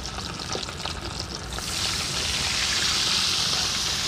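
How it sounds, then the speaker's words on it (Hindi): Fish frying in hot oil at a roadside eatery, a continuous hissing sizzle that swells louder and brighter halfway through, heard close with no speech. "अपना तेल गर्म होने के बाद मछली जो है फ्राई किया जा रहा है अभी"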